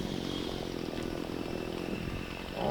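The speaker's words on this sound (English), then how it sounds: "You can use your string trimmer as a blower." A string trimmer running at full throttle as a makeshift blower during lawn care work, its small engine giving a loud, steady, close-up whine that holds without a break and swells slightly at the end.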